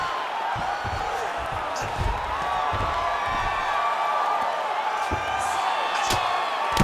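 An arena crowd at a mixed martial arts fight cheers and whoops steadily near the end of a round, a continuous roar with scattered shouts and thuds and a voice carrying over it.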